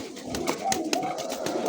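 A pair of Lahori pigeons coo in a short series of soft throaty calls, close and clear over light background noise.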